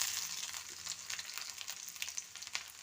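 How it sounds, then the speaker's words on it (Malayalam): Garlic goes into hot oil with already-popped mustard seeds while tempering for sambar, giving a close, bright crackling sizzle with sharp spits and pops and no talking. "അതിലേക്ക് വെളുത്തുള്ളി ഇട്ട് കൊടുക്കാം."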